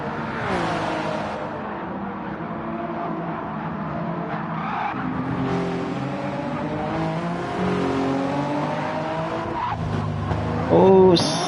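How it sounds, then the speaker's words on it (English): Racing-car tyres squeal and skid hard coming out of a chicane in Gran Turismo 7 during a Le Mans 24h pre-qualifying race, with engines revving continuously throughout and a faint voice under the noise. "I heard the tyres. Very unstable out of the chicane."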